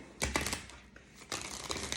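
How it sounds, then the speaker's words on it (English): Tarot cards from a Robin Wood deck being shuffled by hand: two quick crisp bursts of riffling and flicking card noise, close and fairly loud, separated by a short lull. "Trying to show you my fancy shuffling skills."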